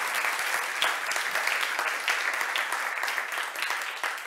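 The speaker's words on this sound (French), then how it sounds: "On se donne une petite main d'applaudissement d'être ici ce mardi matin." Audience applause from a large crowd on a Tuesday morning at the MTL Connect event, dense, even clapping that holds steady and close for several seconds.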